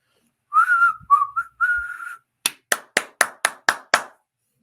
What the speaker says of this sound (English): 7-clap command and whistle